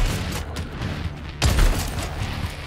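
Heavy gunfire in Helldivers 2 from slugger and railgun weapons, one sharp loud blast standing out over a busy rumble of battle noise.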